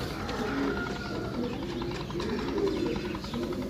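A pigeon coos in low, repeated throaty murmurs, close and fairly steady, with a few other bird sounds behind.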